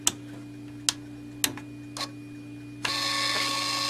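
A Chinese no-name 58mm thermal receipt printer in hex mode gives a few sharp, separate clicks, then a steady, close, buzzing whir as it prints, with no voices over it.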